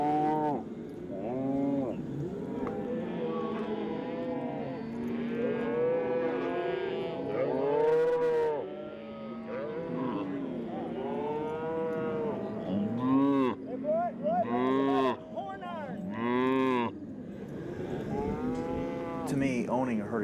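Cattle on a ranch moo repeatedly, a herd of cows lowing in overlapping long calls, some near and loud, others farther off, continuing steadily with no talk.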